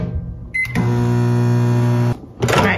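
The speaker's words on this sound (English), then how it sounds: "I'm gonna put it back in the microwave" A microwave oven hums steadily at close range while heating a queso dip, bracketed by clicks and a short beep as it starts and stops.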